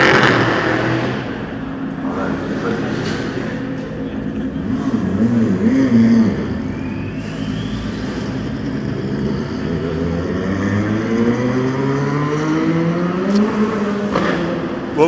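A Toyota race car runs during Le Mans 24 Hours qualifying in 2016. A steady engine drone rises and falls as it passes at middle distance under crowd and ambient noise.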